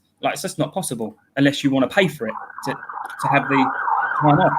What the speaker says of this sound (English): sorry about the sirens going past my house